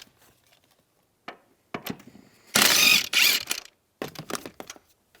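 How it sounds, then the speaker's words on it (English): A 14 mm ratchet loosening seat bolts in a 2001-2007 Toyota Highlander, a few short clicking bursts with one louder rasping run in the middle, close and dry. "with a 14 millimeter, let's remove these two bolts."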